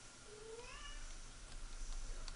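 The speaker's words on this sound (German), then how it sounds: "Ja, eine Katze." A cat gives a single rising and falling meow, fairly quiet and close, over a soft low background hum.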